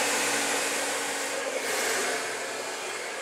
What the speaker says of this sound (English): The blow dryer is never at one spot longer than half a second.